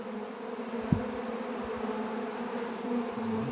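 A swarm of honeybees flies back toward its spot after rebuilding comb on a tree. The buzzing is dense and steady, with a single brief knock early on.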